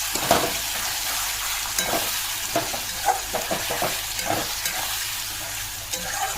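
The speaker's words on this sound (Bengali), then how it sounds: "এটা কষে নিই, তারপর আমি মাংসগুলো দিয়ে কষবো" Spices for a dhaba-style chicken curry sauté in a pan, giving a steady sizzle broken by frequent scraping strokes of a spoon. The sound is close and unaccompanied by speech.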